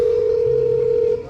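A landline telephone being dialed in a school cultural program skit, a steady loud tone with a brief lower tone joining, then cutting off shortly after.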